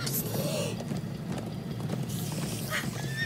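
Rhythmic hoof clip-clop of a galloping horse in Minecraft: Story Mode over a steady game soundtrack, with a brief whinny-like sound near the end.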